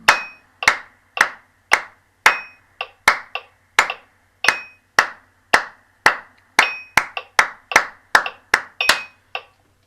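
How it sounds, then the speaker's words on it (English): Rhythmic hand clapping from a group warming up before a music session, sharp close claps landing in a steady counted pattern with short bursts and brief pauses, no talking over it. "there's a bit of clapping to get us going."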